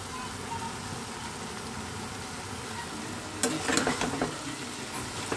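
Cabbage korma with sugar and ghee is stirred in a pan, with a steady low sizzle throughout and then a burst of scraping, clattering stirring strokes near the end, close up.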